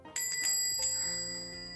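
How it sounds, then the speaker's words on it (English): A doorbell in the visual novel AppleBag gives a bright, bell-like chime that strikes sharply and rings on, sustained and slowly fading over low tones, with no talk. "The doorbell took my attention away from Aisata"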